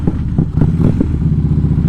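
A Harley-Davidson Street Glide being ridden on the road, its engine giving a loud, close, steady low-pitched rumble with a fast pulsing thump and some wind buffeting.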